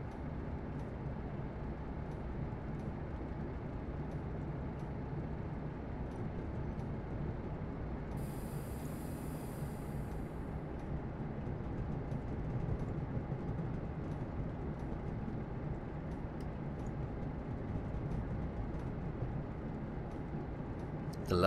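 A BR 47/0 locomotive rumbles in the video game Train Simulator 2016, a low, steady, faint mechanical drone with light rattling, heard from behind the cab throughout, with a brief hiss partway through.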